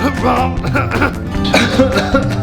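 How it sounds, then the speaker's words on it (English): Repeated harsh coughing, close and loud, mixed with throat clearing and some vocal sounds throughout. "Max, are you okay? You're coughing a lot."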